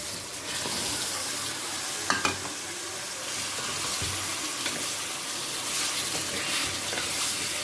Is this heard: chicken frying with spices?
yes